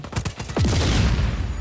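Gunfire in the video game Just Cause 4: a quick string of sharp shots followed by a heavy blast that rolls into a sustained rumbling barrage, loud and close.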